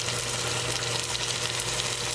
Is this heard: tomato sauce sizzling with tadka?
yes